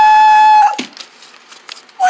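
A loud, steady horn blast sounds alone for a moment and cuts off, followed by faint scattered noises, then another loud blast starts at the very end.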